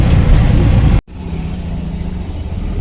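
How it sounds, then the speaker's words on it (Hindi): Heavy Sunday traffic jam with car engines running nearby, a loud steady low rumble of idling and creeping vehicles that cuts out abruptly for a moment, then resumes a bit quieter with a low engine hum. "ट्रैफिक है बहुत ज़्यादा, क्योंकि आज संडे है, इसलिए सारे में ट्रैफिक मिल रहा है हमें।"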